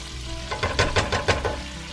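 Rice frying in a hot pan on medium heat, a steady crackling sizzle with several scraping stirs in a quick rhythm, close and clear, no talking.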